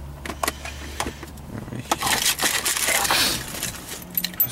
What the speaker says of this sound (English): The keys for the car.